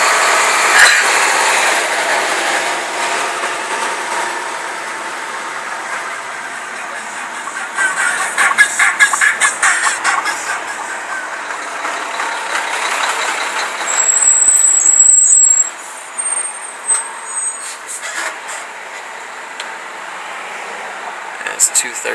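Street traffic on Chicago's west side, with trucks and idling engines: a continuous rumble and hiss of passing vehicles, with a brief high squeal midway, while people talk over the noise.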